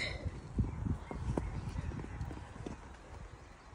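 A horse out on a hack, its hooves clip-clopping on a road in an uneven walking rhythm, close and moderately loud over light background noise.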